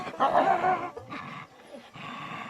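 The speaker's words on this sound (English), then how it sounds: "A lot of growling and attitude already" Dogs in the Sundarbans of Bangladesh, being trained as tiger hounds, growl and snarl close by in rough, throaty bursts that rise and fall over a couple of seconds, with no talk.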